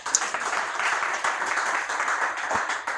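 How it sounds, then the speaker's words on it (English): An audience at a talk on premarital sex claps for itself with a moderate, steady applause of many hands. Scattered sharper claps stand out, and the sound stays fairly distant. "Can you clap for yourself?"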